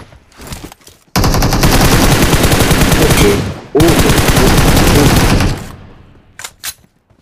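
Automatic weapon fire in the mobile battle royale game PUBG Mobile, Livik classic match: two long, loud sustained bursts of rapid shots, separated by a brief gap, with a few softer shots before and after.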